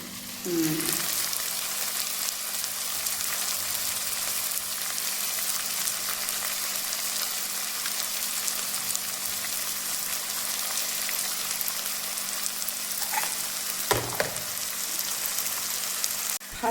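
Onion, tomato, turmeric and red chilli powder fry steadily in a pan for a home-style vegetable curry, a continuous close sizzle with a brief clatter of stirring near the end.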